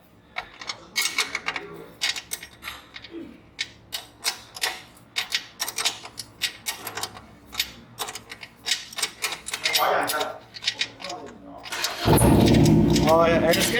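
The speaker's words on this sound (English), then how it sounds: "all the bikes in the background are starting up." Several Harley-Davidson motorcycles start up in a dealership service department, with rapid clicking and cranking bursts in the background building to a loud engine roar near the end.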